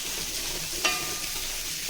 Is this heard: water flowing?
no